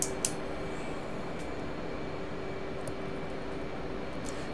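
An F/A-18C jet taking off in the DCS flight simulator, with a steady loud engine roar held throughout and a few faint clicks and knocks. No voices are heard.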